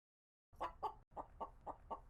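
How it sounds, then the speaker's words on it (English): A free-roaming chicken named Coco clucking, a short run of six or seven close, rhythmic clucks breaking out of silence, with no talk. "Let's take a look at this chicken."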